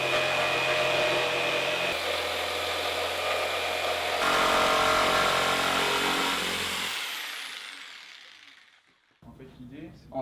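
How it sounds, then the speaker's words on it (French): A power tool cuts a disc out of a plywood sheet, a loud continuous buzzing whine that shifts pitch partway through, then winds down and fades near the end. "Nous allons découper notre disque dans une plaque de contreplaqué."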